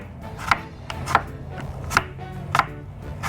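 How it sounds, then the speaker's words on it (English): Apples being sliced thin with a knife on a cutting board, four crisp separate chops spaced about half a second apart, close and clear over a quiet kitchen background. "Slice up our apples. Nice little thin slices."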